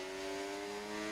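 F1 race cars in a racing video game, with a steady high engine drone and layered harmonic tones holding level throughout as cars run close together during an overtake.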